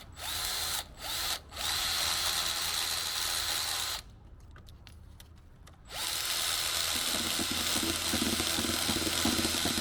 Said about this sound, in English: I'm going to use our trusty Makita to zing them out the rest of the way.